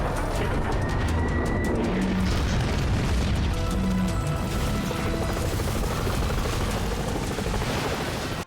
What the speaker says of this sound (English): the kaiju retreats after being bombarded by missiles